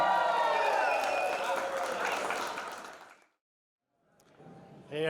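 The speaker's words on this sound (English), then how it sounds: "Let's give a big round of applause" Audience applause and cheering at a wedding celebration, a dense wash of clapping that fades out after about three seconds, followed by silence and then a voice beginning to speak.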